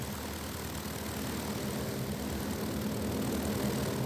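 A Farman propeller airplane, a commercial aircraft converted to a long-range bomber, drones in flight with a steady, even engine roar that holds constant and fairly faint throughout.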